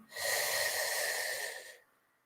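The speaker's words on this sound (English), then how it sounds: "Let's take a nice deep breath to facilitate the emptying of this old energy" One slow, deep in-breath during a guided breathing exercise, a close and even hissing draw of air sustained for about a second and a half before fading to near silence.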